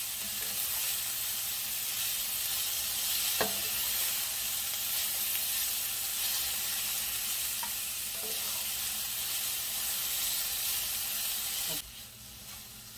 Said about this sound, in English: continue to fry these vegetables until they get to the consistency that I want them